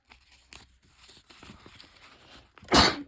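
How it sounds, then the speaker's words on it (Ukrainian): A woman gives a single sharp sneeze, close and loud, after sniffing perfumes, following a stretch of quiet rustling and faint handling sounds. "Щось уже нанюхалася, що чхаю."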